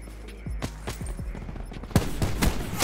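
Rapid bursts of gunfire from a gun in an online shooter game, several sharp close shots in quick succession with a brief lull, loud over low background noise.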